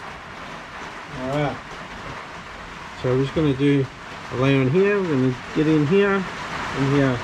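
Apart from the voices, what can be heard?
rain on a tin roof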